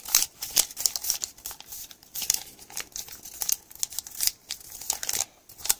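Paper creased into an origami mountain fold: close, crisp crinkling and crackling in irregular bursts, quiet and alone.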